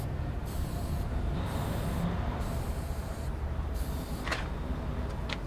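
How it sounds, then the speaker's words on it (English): Spray is applied onto the battery terminals of a Cascadia semi truck. It makes a steady, continuous hiss that lasts throughout, fairly close, with a few faint knocks near the end and no talk. "Spray some extra."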